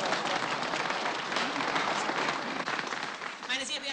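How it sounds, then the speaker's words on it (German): A theatre audience applauds a famous guest, a sustained wash of clapping at moderate distance that thins slightly toward the end as a voice begins to speak over it. "dieser Applaus war etwas verfrüht"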